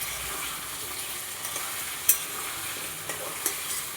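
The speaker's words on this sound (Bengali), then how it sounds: "আলু ভাজা হচ্ছে" Halved potatoes fry in a pan, giving a steady crackling sizzle with occasional sharp pops and light scraping as they are stirred.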